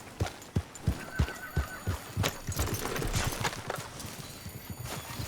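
Hoofbeats clip-clop in a steady rhythm beneath a horse's whinny in the open-world western game Red Dead Redemption 2, the horse carrying a load of pelts; loud and close, with no talking.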